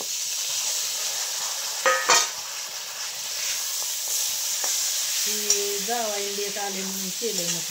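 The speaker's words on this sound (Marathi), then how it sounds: "आता त्याच्यामध्ये मटण टाकायचं." Mutton pieces dropped into a pan of sautéed spices and frying with a steady hiss and sizzle, a few stirring clinks, a voice speaking briefly near the end.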